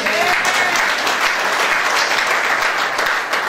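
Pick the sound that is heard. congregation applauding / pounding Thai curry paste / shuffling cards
congregation applauding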